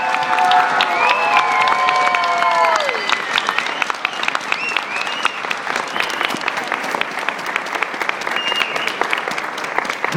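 A congregation at a Toronto, Ontario mission gathering gives Elder Mangakahia a big round of applause, loud sustained crowd clapping with some cheering and tonal calls early on, continuing strongly to the end.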